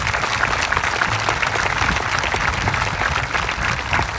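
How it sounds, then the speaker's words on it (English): Sustained applause fills a high school graduation ceremony in 2023, steady and dense from a large crowd throughout, with no voices rising above the clapping. "Let's give those folks a round of applause."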